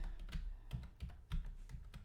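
Keystrokes on a computer keyboard while entering a search on a Canva t-shirt design site, a quick uneven run of close clicks alone in a quiet room.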